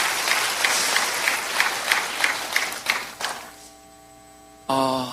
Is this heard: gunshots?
no